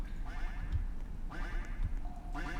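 Cartoonish duck quacks from a Roblox horror obby game, sounding in three short bursts of harmonic calls spaced about a second apart over a busy, rumbling game background.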